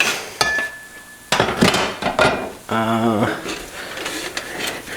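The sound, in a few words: trimming food with a knife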